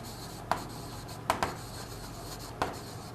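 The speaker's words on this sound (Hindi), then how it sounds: "लिख ही देता हूं।" A few faint, sparse taps and short strokes of writing on a board, close but quiet against a steady room hum.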